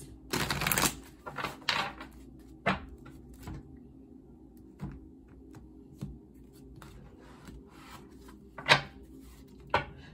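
Tarot cards shuffled by hand, with a burst of riffling near the start followed by scattered soft slaps and taps of cards being cut and handled, quiet and close, with no talking.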